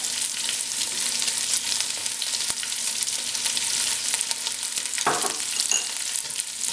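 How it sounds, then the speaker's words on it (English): Lamb pilau with garam masala, ginger and garlic is stirred in a pot, a loud, steady sizzle of frying meat with a louder scrape of the spoon partway through. "just Going to give it a good mix"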